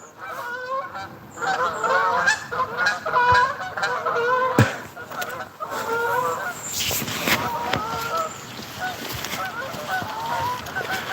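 Canada geese honk repeatedly and noisily nearby during an outdoor morning walk, a rapid run of harsh calls overlapping one another, with a person talking intermittently underneath.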